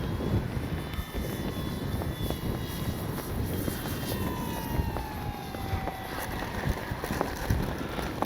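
Engine drone of a Pilatus PC-21 RC plane by FMS flying outdoors, a steady, loud buzzing whine with shifting pitch that rises and falls as the aircraft passes, under continuous wind noise.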